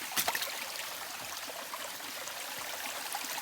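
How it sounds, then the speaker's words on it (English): Spring water trickling down a rocky hiking trail in the mountains, a steady soft babbling wash with no voices. "And the spring runs right down the trail."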